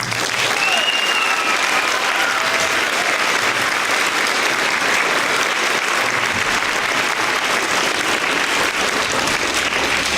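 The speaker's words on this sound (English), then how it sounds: "they deserve an enormous round of applause" A large audience at a spelling bee claps steadily and enthusiastically, a dense, continuous wash of applause that holds at full volume throughout.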